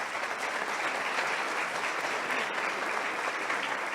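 An audience at a social responsibility congress gives the panelists a steady, dense round of applause, loud and continuous throughout.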